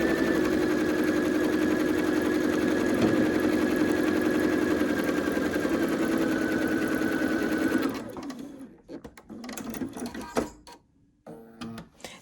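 A sewing machine stitches a Flowering Prism quilt block in a steady, loud mechanical whir for about eight seconds, then stops, leaving a few scattered clicks and handling noises.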